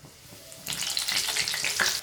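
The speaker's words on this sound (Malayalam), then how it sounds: "ഇതുപോലെ തന്നെ നമുക്ക് എല്ലാ മുളകും ഫ്രൈ ചെയ്തെടുക്കാം ഈ ബാറ്ററിൽ മുക്കിയിട്ട് തന്നെ" Chillies dipped in batter for mulaku bajji drop into hot oil, and a loud, bright deep-fry sizzle erupts about two-thirds of a second in, then keeps crackling steadily to the end with no talk.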